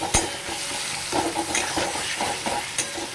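A fish curry base with turmeric powder is stirred in a hot pan, a close sizzle broken by repeated scraping strokes and light knocks of the spoon, with no one talking.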